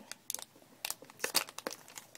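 Cardboard and plastic packaging of a Pokemon Venusaur EX box being torn open by hand, a quick series of sharp crinkling rips and crunches, close and fairly quiet.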